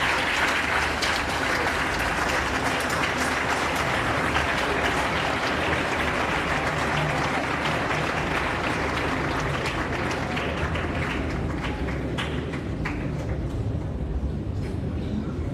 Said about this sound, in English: A loud round of applause for Emeritus.